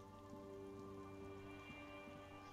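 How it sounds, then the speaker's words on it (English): Steady rain falls in Disco Elysium, a soft, even hiss of raindrops on surfaces with no talking, running unbroken at low volume under a constant tonal hum. "It's getting late and it's raining."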